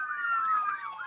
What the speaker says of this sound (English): Police sirens are still blaring in the distance.